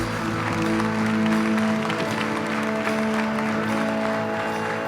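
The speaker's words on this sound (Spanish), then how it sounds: "Denle un aplauso al Señor" A church congregation claps together in continuous, dense applause, loud and sustained, with a steady musical tone ringing underneath and no clear talk.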